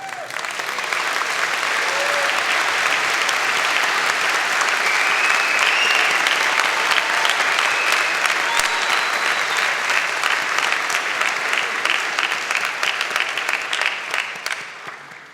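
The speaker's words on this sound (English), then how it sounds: "Do you have room for one more round of applause?" A large convocation audience applauds its graduates at a spring ceremony, sustained even clapping for about fifteen seconds before it tapers off at the close.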